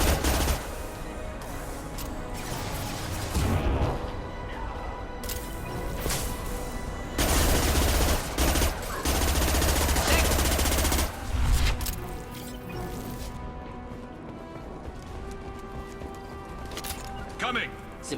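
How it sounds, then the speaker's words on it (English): Rapid bursts of gunfire from Mass Effect, a high-impact shot among repeated loud reports with crashes and game effects, over talk in the background. "Firing a high-impact shot."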